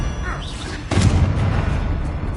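A single heavy spell blast booms in a Harry Potter video game, a sudden loud impact followed by a rumbling tail amid low background game sound.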